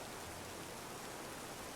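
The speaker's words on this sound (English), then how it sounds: "it's raining in the desert" Steady rain falls in a desert setting in a video game, a dense even hiss of drops holding at a constant level for the whole stretch with no voices over it.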